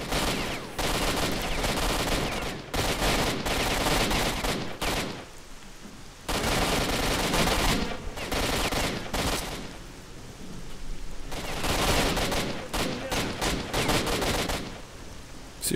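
Gunfire in the shooter Stalker: Shadow of Chernobyl at a military outpost, loud close bursts of rifle shots in long stretches broken by brief pauses, with echoing cracks and no talk.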